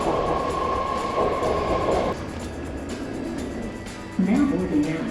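A BART train rolls into an underground station in the San Francisco Bay Area, its steady rumble and wheel noise filling the platform, a sustained tone cutting off partway, then a rising electric whine and squeal as it slows, with a voice speaking.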